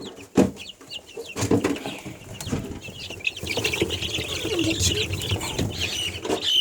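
Young chicks with growing feathers cluck and peep steadily in a brooder, with soft scuffling and wing flaps around the close, lively chatter.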